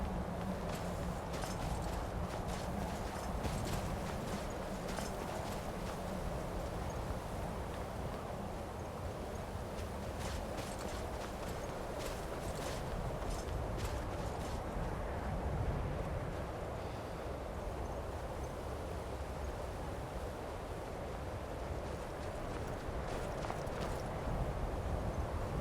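Horse hooves clip-clopping in the video game Skyrim, a continuous dense rhythmic clatter of steps over steady outdoor ambience, loud and close throughout with no talk.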